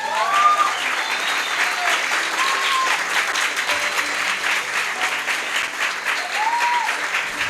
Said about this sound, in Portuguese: Vamos dar uma salva de palmas para o casal?